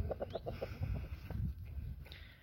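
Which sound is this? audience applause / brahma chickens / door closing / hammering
brahma chickens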